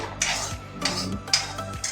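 A spatula scrapes and stirs wheat flour roasting in ghee in a kadhai, giving a close, steady run of rhythmic scraping strokes with light metallic clinks.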